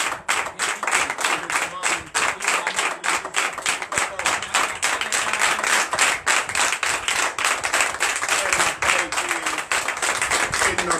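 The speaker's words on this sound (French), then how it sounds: "Donc je vous demande d'applaudir très fort la foi." A church congregation at a night deliverance and prophecy service applauds loudly and steadily, a dense, continuous wash of many hands clapping close by for the full length, with no pauses.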